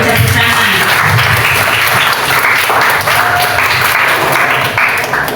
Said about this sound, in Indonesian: Ya, dari tepuk tangan.